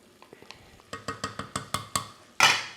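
Japanese curry roux being stirred back into onions in a hot saucepan: a steady run of about eight close, rhythmic clinks and taps from the utensil, ending in one louder scraping burst.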